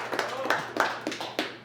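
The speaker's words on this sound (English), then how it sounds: "give me a round of applause, please" An audience at a school community event clapping in response to a request for applause, scattered uneven claps from a modest crowd, fairly close and lasting under two seconds.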